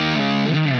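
A short burst of heavily distorted electric guitar plays a power-chord figure sliding along the fifth string, the thick, buzzing chord dropping in pitch partway through, loud and alone.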